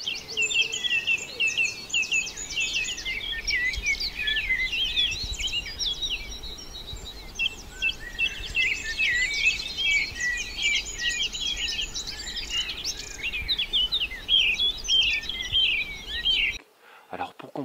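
A dawn chorus of many birds sings at once, with overlapping chirps, trills and whistles layered over a soft insect hum, continuous and lively before cutting off abruptly near the end.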